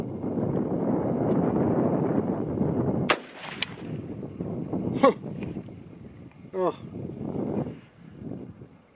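A single loud, sharp 6.8 SPC rifle gunshot cracks outdoors at a range, heard over heavy wind buffeting the microphone, with a few further knocks and handling sounds afterward and a voice speaking.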